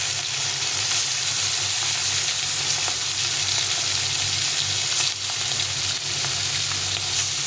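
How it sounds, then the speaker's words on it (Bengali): Pieces of snakehead fish, heads removed, fry together in hot oil with a continuous close sizzle and occasional faint stirring sounds. "সবগুলো মাছ একসঙ্গে ভেজে নেব।"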